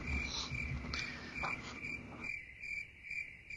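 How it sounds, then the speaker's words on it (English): Crickets chirp in a steady, high-pitched pulsing trill, faint and continuous, with soft background noise underneath and no talking. "Followed by crickets."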